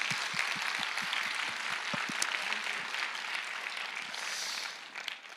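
Applause from a church congregation at an evening revival service, a steady broadband patter of many hands sustained throughout, with a few louder claps near the start and the clapping thinning toward the end.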